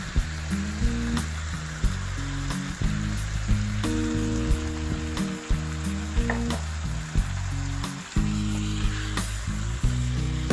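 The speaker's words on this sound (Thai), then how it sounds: "แล้วก็ผัดคลุกเคล้าทั้งหมดนะครับ ให้เข้ากันนะครับ" Pork being stir-fried with soy sauce and oyster sauce for a traditional Thai pressed pork-head dish, giving a steady close sizzle with scraping stirs beneath continuous background music.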